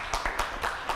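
A studio audience gives brief, light applause: a short run of sparse, rhythmic claps at moderate distance, fairly faint and with no talking over it.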